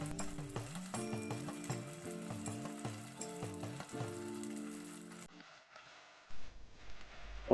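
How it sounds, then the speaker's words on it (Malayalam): Drumstick leaves sautéing in a pan for a Kerala-style curry, a steady sizzle with stirring and soft rhythmic scraping that suddenly drops off to near quiet, ending with a faint clink. "ഒരു 2-3 മിനിറ്റ് നമുക്കൊന്ന് ഈ ഇലയൊന്ന് വഴറ്റി കൊടുക്കാം"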